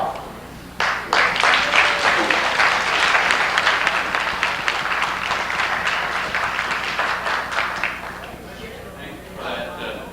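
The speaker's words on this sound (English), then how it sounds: "nice round of applause" An audience at a senior housing grand opening breaks into sustained applause, a dense, close wash of many hands clapping that swells quickly and then slowly thins out over about ten seconds.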